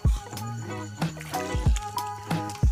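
Sea water sloshing in repeated splashing surges as someone wades through the shallows at night, near and moderately quiet, with a faint voice in the background.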